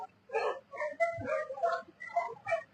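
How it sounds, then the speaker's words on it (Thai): A dog barks in a quick run of short, sharp yaps, about eight in under three seconds, close by and fairly loud. "ได้ยินเสียงหมาเห่าไม่ตื่นเลย"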